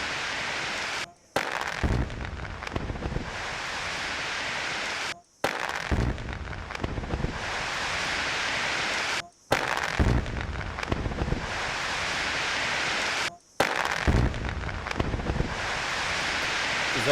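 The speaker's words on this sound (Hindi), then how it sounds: "हमले के बाद जोरदार धमाका हुआ है।" Explosions from an attack on a Russian military convoy heading toward Zaporizhzhia, heard as four separate stretches, each with a heavy low boom over constant roaring wind buffeting. No one speaks.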